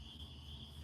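Crickets chirp in a steady, continuous high trill, faint and even, with no voices or other distinct sounds over it.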